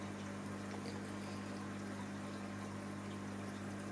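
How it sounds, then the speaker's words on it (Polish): Air bubbles rising inside an aquarium make a steady, even hiss and bubbling layered over a constant low hum, continuous and unchanging throughout with no voices. "tam sobie bąbelki lecą"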